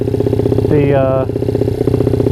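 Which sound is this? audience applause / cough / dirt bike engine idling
dirt bike engine idling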